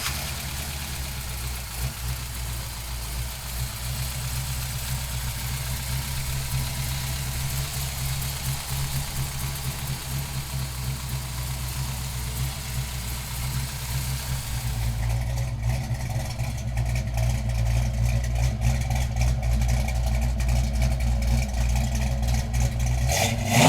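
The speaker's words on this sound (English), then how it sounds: "So come on up and we'll fire it up for you right now." A 1970 Plymouth Duster fitted with a 440 engine runs steadily at a loud, rumbling idle, then rises into harder revving partway through, the exhaust growing rougher and more aggressive toward the end.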